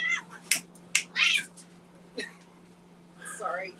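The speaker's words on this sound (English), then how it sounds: "sorry, cats are fighting over food." Cats fighting over food let out sharp meows and yowling caterwauls in short bursts, close and loud against a quiet room with a low steady hum.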